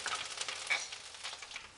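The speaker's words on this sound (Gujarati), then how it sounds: "મીઠા લીમડાના પાન પણ આપણે તેલમાં ઉમેરી દઈશું।" A handful of curry leaves drop into hot oil and give off a brief, soft crackling sizzle, faint and close, with no voices.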